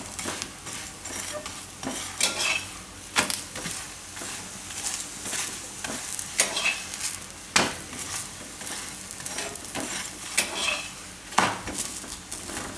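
A green garlic paratha fries in ghee or oil on a pan, with a soft background sizzle broken by sharp scraping and clinking as a utensil presses and turns the flatbread at irregular intervals.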